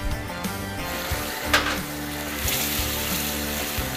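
Chopped precooked bacon and shrimp frying together in a pan for cheesy shrimp and grits, a steady close sizzle with an occasional stir or utensil clink, no talking.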